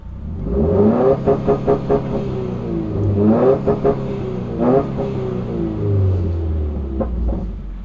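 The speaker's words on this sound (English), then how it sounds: "clutch in whole time, step on the gas until you hit your RPMs" A 2015+ Subaru WRX engine revs repeatedly with the clutch held in, producing loud, close, rhythmic bursts of rising and falling engine noise in a launch control setup.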